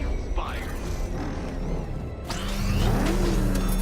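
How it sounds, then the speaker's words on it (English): Batmobile engine revving in the video game Batman: Arkham Knight, a mid-pitched engine rising louder near the end amid game sound effects, with talk over parts. "Let's put that grotesque ego-mobile to the test."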